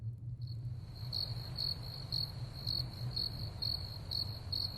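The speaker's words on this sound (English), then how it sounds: "So Crickets." Crickets chirp in steady, evenly spaced pulses against a low background hum, clear and moderately near, with no voices.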